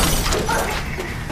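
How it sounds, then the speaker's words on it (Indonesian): A locked door's glass pane is smashed with the back end of a flashlight, a loud, close shattering crash that rings out briefly with no talking. "Dia menggunakan bagian belakang senter untuk memecahkan kaca."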